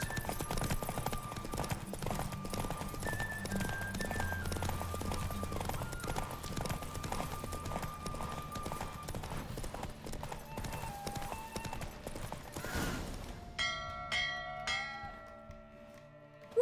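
Hooves clip-clop steadily at a gallop during a horse race in The Witcher video game, loud and rhythmic under game music, then fading as a victory fanfare of bright tones takes over near the end.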